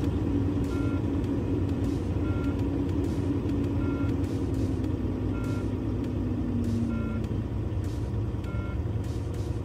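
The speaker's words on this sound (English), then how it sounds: "For that, we will start the truck." A truck engine idles steadily for an air brake compressor buildup test, a constant low rumble throughout with faint intermittent beeping on top, no talking.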